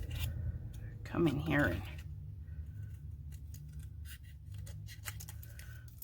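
Scissors trim a 3.25 by 6.25 inch paper card for a special envelope, making a brief cluster of close, crisp snips while a person talks over a low background hum.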